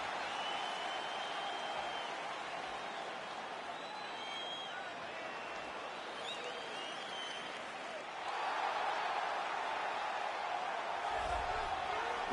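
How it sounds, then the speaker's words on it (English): An arena crowd in the UFC 3 video game cheers a fighter's walk to the octagon, a sustained roar of cheering and applause that swells noticeably louder partway through and holds there. "the crowd pops as this guy makes the walk to the octagon"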